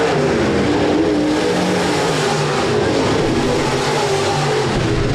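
USRA B-Modified race cars roaring around Rapid Speedway during a heat race, a steady loud wall of engine noise from a pack of cars, sustained throughout with no break.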